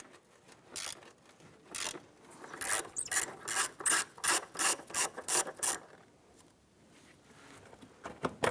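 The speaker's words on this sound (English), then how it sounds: "use your 10mm, loosen and remove this bolt" A 10mm ratchet wrench loosens a rusted bolt on the engine mount of a 1999-2004 Jeep Grand Cherokee 4.7L V8, clicking in a quick series of close, sharp ratcheting bursts.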